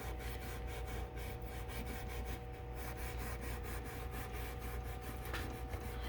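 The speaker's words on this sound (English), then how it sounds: "it takes all the tarnish off the frets and shines them up" Guitar frets are rubbed by hand to clear tarnish, a soft, steady, low-level scrubbing friction that continues evenly throughout, close but quiet.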